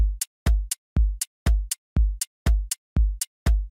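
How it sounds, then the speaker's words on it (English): A self-made electronic drum groove: deep kick, sharp clap and crisp hi-hat hits in a steady, evenly spaced loop, loud and close with no voices. "this is the groove with the kick,"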